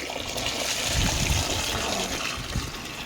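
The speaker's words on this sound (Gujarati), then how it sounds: "ઓલો નયો ટબ આપણું પાણી ભરીએ" Water gushes and splashes steadily into a tub, a close, continuous rushing pour with no speech.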